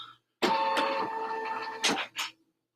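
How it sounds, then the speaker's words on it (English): A computerized embroidery machine stitches out heart shapes, giving a steady mechanical whir with tonal hum that runs about a second and a half, then two short bursts as it pauses and restarts. "And now I'm going to stitch the hearts."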